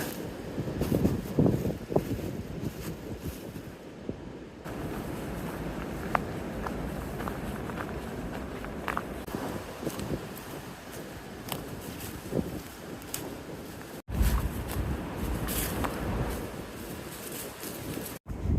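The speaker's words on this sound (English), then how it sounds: "Wind is starting to pick up." Wind blows on a wooded mountainside as the trees sway, a steady rushing roar with buffeting against the microphone, with occasional footsteps and faint birds.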